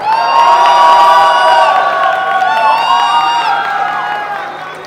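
A live show audience at a drag competition in a nightclub claps and cheers loudly, with whoops and shrill shouting voices rising over dense applause throughout, slowly tapering near the end.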